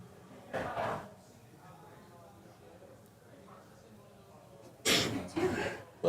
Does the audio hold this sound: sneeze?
yes